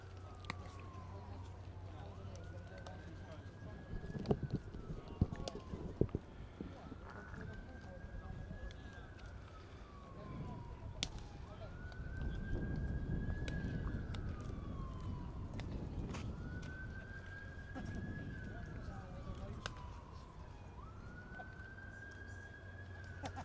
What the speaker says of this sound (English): Sirens sounding all over us here.